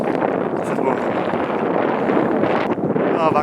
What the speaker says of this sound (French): Première sortie, un méga vent de merde.